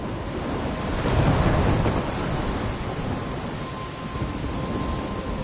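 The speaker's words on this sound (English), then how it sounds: "I'm trapped in a storm?" A heavy thunderstorm with rain in the video game Life is Strange: dense, steady rain hiss over a low rolling thunder rumble that swells near the start and stays loud throughout.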